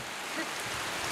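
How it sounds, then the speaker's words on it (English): Rain falls steadily on a campsite on the Fourth of July, a dense even hiss of drops that is brief and continuous, with no voices. "The rain is real."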